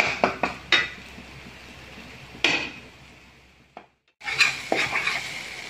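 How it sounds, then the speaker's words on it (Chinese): A spatula scrapes and clanks against a wok while fish curry ingredients like ginger and salt are stir-fried, with several sharp metallic strikes, soft sizzling between them and a brief silent gap before the stirring resumes. "给它爆炒一下"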